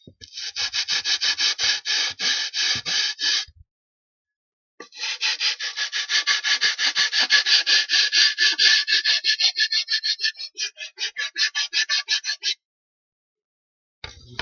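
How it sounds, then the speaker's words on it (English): Sandpaper glued to a wooden block rubs back and forth over a wooden piece for a model house, making close, rhythmic rasping strokes in two long runs separated by a short pause. "This is sandpaper glued on a piece of wood."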